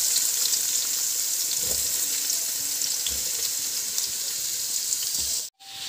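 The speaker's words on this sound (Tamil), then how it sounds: "வெங்காயம் பச்சை மிளகாய் போட்டு நல்லாவே வதக்கிக்கோங்க" Onion and green chillies sauté in oil in an aluminium pan with a steady, close hiss of frying, broken by a few soft stirring knocks and a brief dropout near the end.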